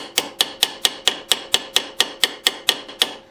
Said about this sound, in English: knock little dimples all the way around the outside edge of that and just expand the metal